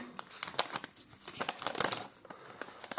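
Close, irregular crinkling and rustling of newspaper being unwrapped from Soviet coins, in short crackly bursts.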